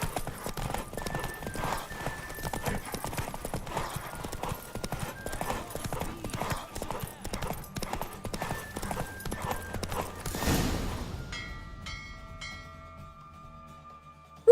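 A horse gallops through a race in The Witcher 3, its hooves beating a steady, rapid clip-clop over a continuous backdrop of game music and ambience before the drumming stops and sparse tones ring out at the end.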